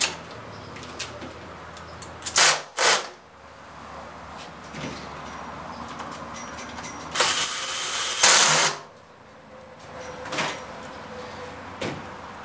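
Power drill driving bolts back into the front cover of a homemade alternator, heard as several short whirring bursts with one longer run near the middle, close and fairly loud against a quiet background.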